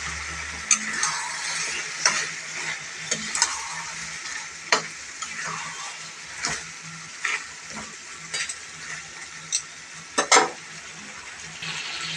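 Chicken curry with mint leaves, lemon juice and garam masala sautéing in a pan, a steady close sizzle broken by frequent sharp spatula scrapes and clinks against the pan, no voices.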